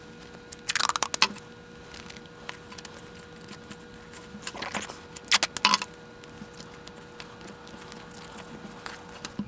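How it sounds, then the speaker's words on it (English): Tape being pulled and pressed to fasten a binder clip onto a ruler gives a few short bursts of ripping and crinkling, close and fairly soft, with quiet pauses between. "So let's tape this on."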